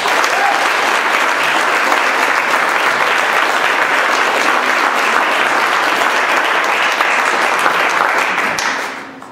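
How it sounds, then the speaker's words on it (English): Loud, sustained applause from an audience at a jiu-jitsu black belt test fills the space, clapping evenly for several seconds before fading out at the end. "Give him a round of applause."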